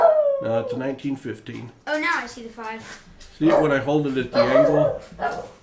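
A dog howls and whines loudly, with yips mixed in, in long drawn-out bursts that overlap a person speaking close by indoors.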